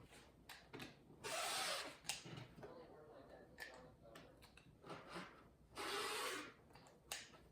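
A blade slices through layered quilting fabric to trim off excess, heard as two sustained, hissing rasps of cutting with softer handling noises between, while a voice speaks quietly in the background.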